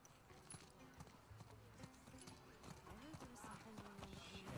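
Horse hooves clip-clop steadily with an occasional whinny, set against a busy background of voices talking, in the video game The Last of Us Part II.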